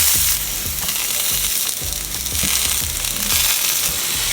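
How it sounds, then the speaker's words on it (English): Onion and ginger halves sear loudly in a hot pot, with a bright, continuous sizzle broken by crackles and occasional clunks as the pieces shift. "the first thing we're gonna do is kind of sear our ginger and onion"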